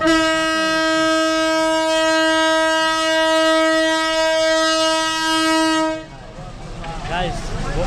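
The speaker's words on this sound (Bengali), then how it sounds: "কথা বলতে বলতে কিন্তু আমাদের ট্রেনের হুইসেল দিয়ে দিছে" A local train's horn blows a single long, steady, loud tone lasting about six seconds before cutting off, leaving station noise and faint voices behind.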